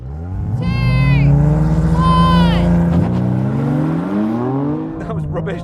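A BMW M3 CS and an Audi RS4 launch side by side in a drag race, held on the brakes without launch control. Their engines roar loudly and climb steadily in pitch through several gear changes, close and continuous.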